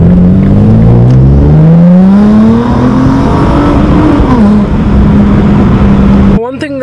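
A Nissan GT-R sports car driving, a loud close engine drone whose pitch climbs steadily as it accelerates, then levels off before a brief gear change or shift near the end.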